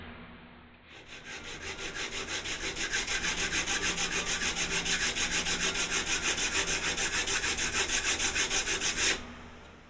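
A sanding block rubbed back and forth over a thin piece of wood in rapid, even strokes, a steady rasping scrub that runs for several seconds before stopping abruptly.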